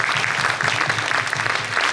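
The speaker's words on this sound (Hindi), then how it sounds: "एक बार जोरदार ताली इनके पूरे परिवार के लिए।" An audience at a charity event claps warmly and continuously, a dense, close, sustained round of applause with no talking over it.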